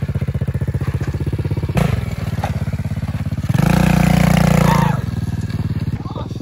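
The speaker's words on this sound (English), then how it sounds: "Juan, you got a dirt bike." Dirt bike engine revving loudly and close, with a steady idling pulse rising into a sustained higher rev for about a second before settling back down, while people talk over it.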